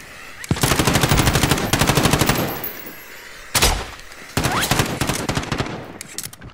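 Gunfire in a shooter video game, with loud bursts of rapid automatic fire in three separate volleys and brief pauses between them.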